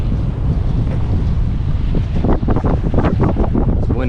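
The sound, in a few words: strong wind at a pier boat dock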